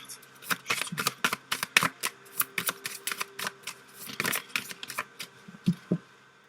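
Tarot-style cards are riffled and shuffled by hand for a card reading, making a quick series of close, crisp slaps and flutters in irregular bursts with brief pauses between them.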